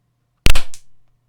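A party popper goes off indoors with one sharp, loud bang, followed by a brief crackle and a short fading tail, alone against a quiet low hum.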